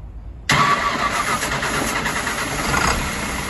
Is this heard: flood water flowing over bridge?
no